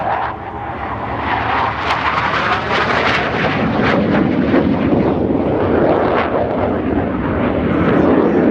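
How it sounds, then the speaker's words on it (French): A Swiss Hawker Hunter combat jet roars past at an air show at La Ferté-Alais, a loud, sustained engine blast that swells and rumbles throughout. "avion de combat. Le Hunter"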